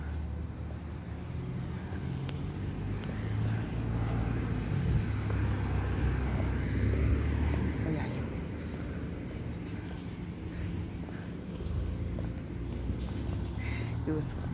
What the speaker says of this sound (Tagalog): may dumating din sa sasakyan.